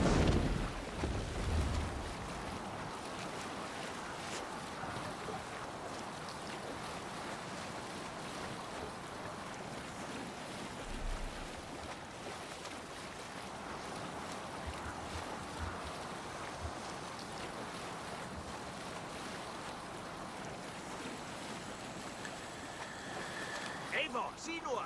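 Sailing ship at sea in the Assassin's Creed Valhalla game, a continuous broad wash of wind, waves and water rushing past the hull, steady and full throughout with a louder burst at the start.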